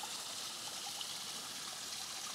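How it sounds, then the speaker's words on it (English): A small waterfall at Middle Creek Falls pours steadily, a continuous even hiss and splash of falling water heard close and alone, with no voices. "I'm pretty thrilled to have found this little waterfall, this tiny falls, as I like to call it."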